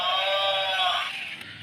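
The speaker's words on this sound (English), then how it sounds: "Battery operated cow" A battery-operated toy cow sounds a single loud electronic moo-like bleat that holds steady, then fades out over under two seconds.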